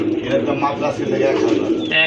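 A pair of red pigeons coos softly and continuously at a bird sale, with a man's conversation running over the murmuring calls.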